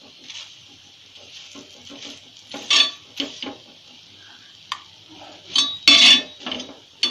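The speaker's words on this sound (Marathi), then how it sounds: "तूप लावून अशी चांगली खरपूस भाजून घेऊया" Puran poli flatbread roasting in ghee on a hot pan, with clinks and scrapes of a utensil on the pan over a faint, steady sizzle, no talking.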